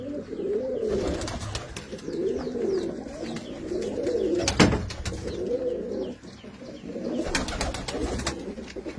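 Pigeons coo in soft, repeated low rolling calls from several birds nearby, with a brief flutter of wings partway through.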